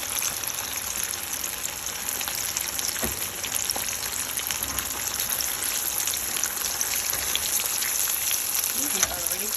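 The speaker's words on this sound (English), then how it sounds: "let me turn that heat down a bit and let these bad boys taste and fry" Spicy chicken wings fry in a pot of hot oil, giving a steady, dense sizzle and crackle that holds even throughout, close and fairly loud, with no voices over it.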